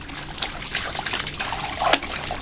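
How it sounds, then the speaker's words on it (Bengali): Water runs in a steady close trickle with small splashes as leafy bottle gourd greens are rinsed again in a home kitchen, with no talk. "শাক ধুয়েই কুটেছি তবু আর একবার ধুয়ে দিচ্ছি"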